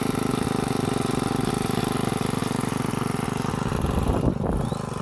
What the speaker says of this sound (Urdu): تو ابھی یہ بن قاسم ان کا نام ہے جو ٹریکٹر چلا رہے ہیں